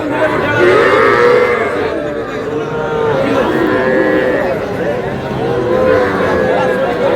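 Young bull calves moo repeatedly at a busy cattle market in Kushtia, their loud, drawn-out lowing rising and falling over steady crowd chatter and people talking nearby.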